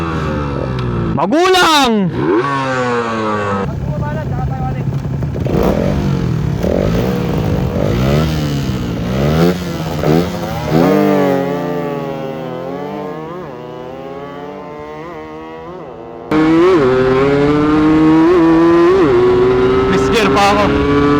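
Suzuki Raider FI and RXT 135 motorcycles racing, two-stroke against four-stroke, loud close engines revving hard with rising and falling pitch through repeated gear changes, and a shout over the roar.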